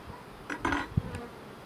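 Honeybees buzzing during an eight-week hive inspection, a brief close hum rising among soft clicks of frames and equipment.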